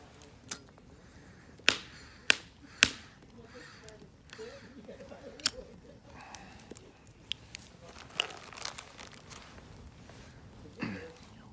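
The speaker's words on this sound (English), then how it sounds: "Join the first campfire of the year." A first-of-the-year outdoor campfire crackles softly, with scattered sharp pops and snaps at irregular intervals over a faint, quiet background where a low voice can be heard.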